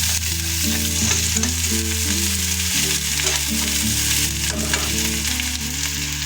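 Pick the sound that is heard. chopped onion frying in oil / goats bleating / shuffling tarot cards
chopped onion frying in oil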